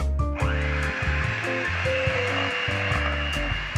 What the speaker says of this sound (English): we want to just whisk this up a little bit just to soften it up so it gets nice and creamy